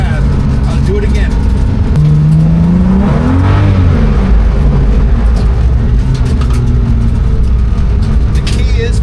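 A car on a race track during a track day slides loose and then recovers, its loud, continuous engine drone rising and falling in pitch while someone talks over it.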